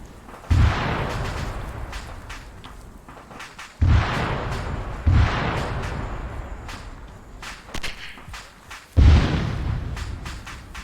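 Artillery shell explosions in the video game Theseus: four heavy booms with long rumbling tails, spaced a few seconds apart, loud and close.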